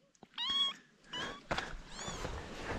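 A kitten gives a few short, high meows in quick succession, close by and fairly faint, with soft household rustling between the calls.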